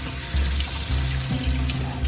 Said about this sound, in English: using our free water out of our well to clean the free fish that we caught in our creek